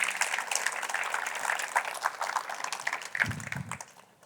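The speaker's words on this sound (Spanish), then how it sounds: "darle un aplauso al Señor por su fidelidad" A church congregation claps in a quiet, even patter that holds steady for a few seconds, heard from some distance with a soft low thump near the end.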